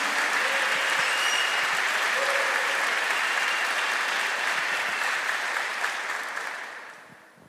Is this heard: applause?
yes